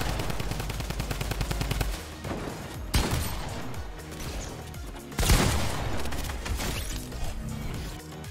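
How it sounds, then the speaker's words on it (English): Minigun fire in Fortnite Battle Royale starts as a fast, rattling stream of shots, then breaks into separate loud bursts and crashing impacts against a busy game background. "Oh god, he has a minigun."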